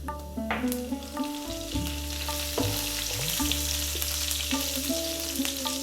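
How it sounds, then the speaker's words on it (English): Fennel seeds, black mustard seeds and fresh curry leaves sizzle in hot oil for a Kerala egg roast. A steady crackling fry runs beneath a tonal background, with no speech. "we're now going to add in our fennel seeds and our black mustard seeds. Our fresh curry leaves."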